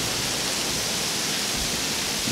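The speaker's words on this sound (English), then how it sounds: "You can kind of hear it coming down, that freezing rain." Freezing rain comes down over a backyard on Christmas Eve as a constant broadband hiss, loud and unbroken, with no voices.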